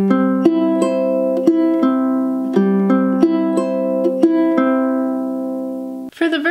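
Ukulele strummed in an even 1-and-2-and pattern at song tempo for a song, with crisp repeated chord strokes ringing clearly and close, ending in a brief rustle.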